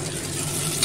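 Potatoes frying in a pan are stirred, giving a brief, continuous sizzle with light scraping, close and alone.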